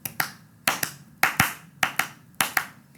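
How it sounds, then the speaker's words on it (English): Close, crisp hand claps tap out a syncopated clave rhythm, pairs and single claps spaced across a few seconds with quiet gaps between them. "Mammy started counting clave by clapping"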